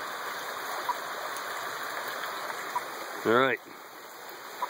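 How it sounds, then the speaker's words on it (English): Rushing mountain creek with natural vegetated banks, a steady broadband wash of flowing water throughout, briefly interrupted by a short spoken phrase near the end. "this is what a creek should look like. A mountain stream."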